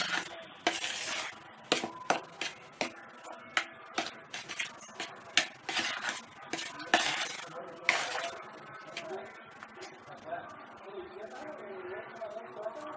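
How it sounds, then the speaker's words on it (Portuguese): Pão de mel batter stirred in a bowl, with a steady run of sharp utensil clinks and scrapes against the dish for most of the stretch, then softer mixing toward the end; a voice talks over it. "Mistura bem para agregar bem os ingredientes"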